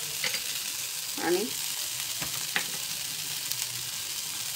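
Garlic frying in a pan with oil, a soft continuous sizzle broken by a few light scraping stirs and a brief clink, quiet and close, with a single short spoken word at one point.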